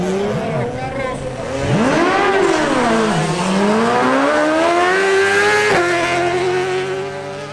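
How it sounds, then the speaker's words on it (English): Two Suzuki motorcycles, a GSX-R1000 and a small AX100, blast down a drag strip side by side, engines screaming loudly and rising in pitch through the gears with a sharp shift, under crowd noise and talk. "Wilson Penzo on his Suzuki GSX-R1000 makes another pass alongside Brandon Rivera's Suzuki AX100."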